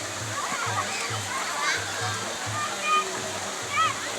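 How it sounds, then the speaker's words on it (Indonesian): A hot spring waterfall at Curug Nagrak in Cisarua pours in a steady, loud rushing wash while children and other people talk over it. "Airnya panas semua sih curugnya."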